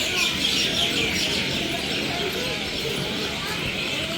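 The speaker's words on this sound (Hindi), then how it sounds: "जो कि चिड़ियों के चहचहाने की आवाज़ है।" Small birds chirp steadily in tall trees near a train station, a dense, continuous twittering over a broad background hum with no clear pauses.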